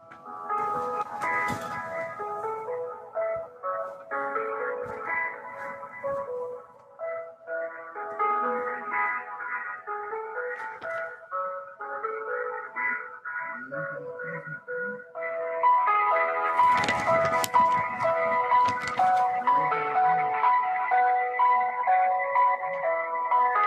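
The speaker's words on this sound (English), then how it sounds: "You'll hear music while we do this, and we'll give you an update in 30 seconds." Electronic melodic telephone hold music playing steadily, bright and synthetic, growing a bit fuller and louder partway through, with no talking.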